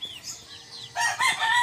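Young backyard stags crow: a thin, rising crow early on, then a louder, fuller crow from about one second to the end, close by with no talking.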